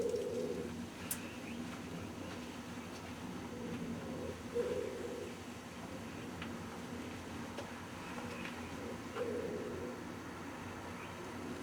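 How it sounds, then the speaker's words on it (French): Common wood pigeons cooing in late winter, soft repeated low coos in short phrases every few seconds, moderately distant over a quiet outdoor background. "les pigeons ramiers nourrissent déjà leurs petits"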